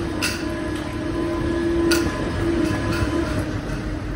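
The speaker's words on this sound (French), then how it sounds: "On va essayer d'attraper le métro." A Paris metro train runs through the station in a steady rumble, with a sustained tonal whine and a couple of brief higher squeals or clatters, heard up close without any talk.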